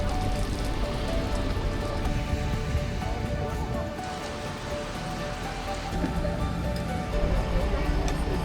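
Pouring rain drums steadily on an airport apron as passengers climb stairs to board a SWISS Airbus A350, a dense continuous wash of drops with background voices and ambient noise underneath.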